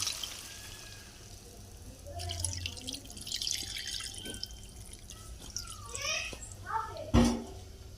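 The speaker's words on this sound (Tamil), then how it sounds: "இப்போ வந்து ஒரு சொம்பு தண்ணி ஊற்றிக்கலாம்" A vessel of water splashes and trickles into a cooking pot for a country chicken dish in short bursts, with dripping and a clunk near the end, fairly quiet and close.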